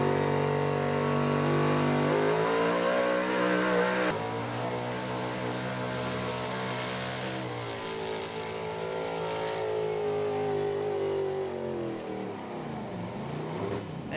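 A pulling truck at a truck and tractor pull roars off the line, its engine screaming loud and close, pitch shifting as it lugs and revs down the track in one continuous run.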